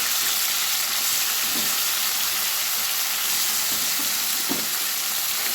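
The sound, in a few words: frying chicken pieces in a little oil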